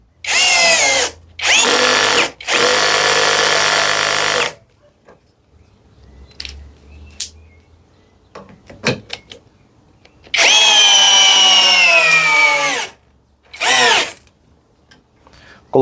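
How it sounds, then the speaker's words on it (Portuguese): A 16V ECOSEN cordless drill in drill mode with no torque control drives an 8 mm screw into wood without a pilot hole, giving loud whining bursts that rise and stop, then two more runs after a quiet gap. "Coloquei na função furar da parafusadeira,"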